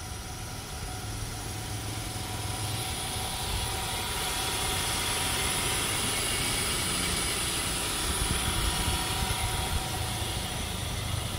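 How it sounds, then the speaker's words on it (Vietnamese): The 1.0-litre petrol engine of an imported 2012 Kia Morning idles smoothly, a steady low hum with a faint high whine that stays even and unbroken throughout, heard alone without talk. "Và đây là tiếng động cơ đang hoạt động, toàn bộ động cơ chạy khá là êm."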